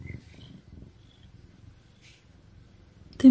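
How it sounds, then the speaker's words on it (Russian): An Oriental cat lying in a bag purrs steadily while dozing off, a soft, close, low rumble with faint snuffly breaths and a brief louder rustle at the end. "Сопит, пыхтит, мурлычет одновременно."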